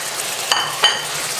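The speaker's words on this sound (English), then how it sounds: "Stirring all the combined ingredients." Linguine with shrimp and parsley being stirred in a hot pan, giving a steady close sizzle with two brief scraping stirs standing out above the constant frying hiss.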